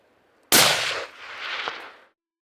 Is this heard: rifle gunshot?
yes